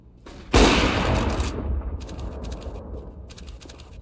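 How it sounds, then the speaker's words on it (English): A flashbang grenade goes off in a video game: one sudden loud burst, followed by a rumbling tail that fades over a few seconds, with thin bright ringing tones flickering near the end. "I'm throwing a flashbang"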